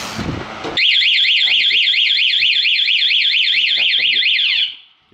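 A piercing electronic alarm wails continuously in a rapid warbling pattern for several seconds, loud and close, then cuts off.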